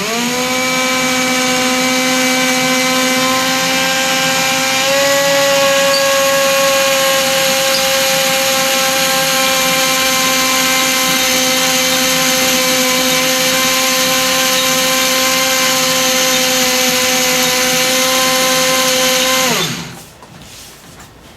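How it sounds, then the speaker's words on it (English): A loud surgical drill cutting an orthopaedic metal plate whines steadily with a strong tonal hum, its pitch shifting slightly once, then spins down and stops near the end. "Now see, I am going to run the drill."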